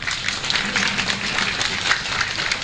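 An audience at an evening talk-and-humour gathering applauds in a steady, moderately loud wash of many clapping hands that continues for the whole short stretch.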